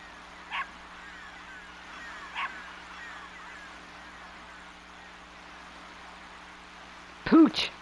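A dog in the Legend of Dragoon video game gives a few short, faint barks spaced apart over a quiet hum, then a louder double yip at the end.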